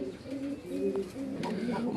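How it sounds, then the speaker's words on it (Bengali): Black golla pigeons give soft, low repeated coos at close range, with faint background murmur. "এখানে একজোড়া কবুতর দেখতে পাচ্ছি, আর এটা হচ্ছে সেই চিরচেনা আমাদের গোল্লা কবুতর, ব্ল্যাক গোল্লা কবুতর"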